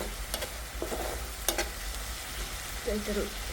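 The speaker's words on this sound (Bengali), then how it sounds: "এখন একটু নাড়া দিয়ে দিব" Fish curry in mustard oil hisses steadily in a pan while a spoon stirs it, with a few distinct scraping clicks against the metal, close and fairly loud.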